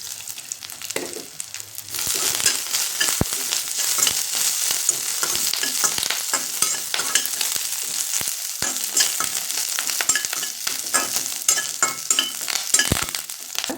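Curry leaves frying with garlic in hot oil for Kolhapuri bhadang snack, a loud continuous crackling sizzle with frequent sharp pops and spatters throughout.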